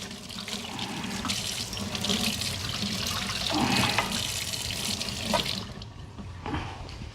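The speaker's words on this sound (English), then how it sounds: "Get a nice clean wash on your knife." A kitchen knife is rinsed under a running tap, a steady rush of water splashing into the sink that shifts as the blade moves through the stream, then cuts off near the end.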